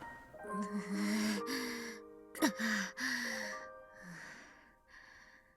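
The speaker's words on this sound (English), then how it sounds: "Someone's breathing really loudly. It's noisy and irritating." Loud, heavy breathing from a character in the video game Robotics;Notes Elite: several close, breathy gasps and sighs over sustained background music, with a sharp burst partway through.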